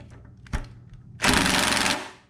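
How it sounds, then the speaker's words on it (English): A cordless impact driver loosens the 10mm bolts holding the ignition coil on a Honda GX390 engine, giving one loud, continuous rattling hammer burst close by after a few faint clicks and a sharp knock. "So we're just gonna use the impact driver."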